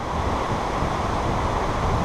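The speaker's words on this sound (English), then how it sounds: "Whoa, look at this waterfall!" Rushing water from a waterfall along the West Highland Way, a loud, steady broadband roar that fills the whole moment without any voices.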